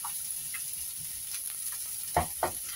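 Carrots and peanuts stir-fry together in hot oil, giving a steady soft sizzle with a couple of sharper scraping stirs near the end.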